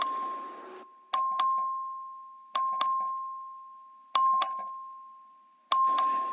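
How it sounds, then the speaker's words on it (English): A ding-dong vote bell in a legislative chamber chimes four times in evenly spaced two-tone pairs, each ringing out and fading in a quiet room. "The clerk will please ring the bell."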